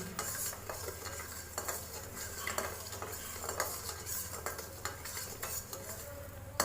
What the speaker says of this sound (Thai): ก็คนให้น้ำตาลละลาย